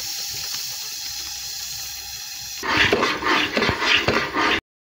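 Water pours into a pan of cooking besan halwa with a few seconds of splashing, bubbling sizzle that follows a quieter stretch of low kitchen background. No voices are heard.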